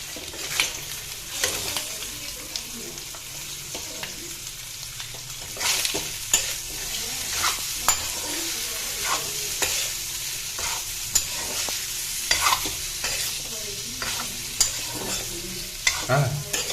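Pieces of pork fry with turmeric and no oil, giving a steady soft sizzle under repeated scraping of a spoon or spatula against the pan, fairly close with no talking.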